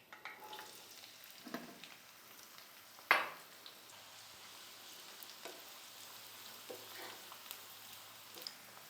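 Chopped onions fry in hot oil for chicken kheema with a soft, steady sizzle at low volume. A single sharp utensil clatter against the pan stands out early on, and a few light stirring taps follow.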